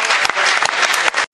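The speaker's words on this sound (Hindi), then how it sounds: "जोरदार तालियों से इस्तकबाल कीजिए।" A mushaira audience applauds a poet with a short burst of loud, dense clapping that stops abruptly.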